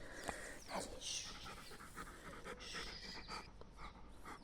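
A dog pants quickly and steadily, rapid soft breaths heard close but faint, with quiet rustling around it.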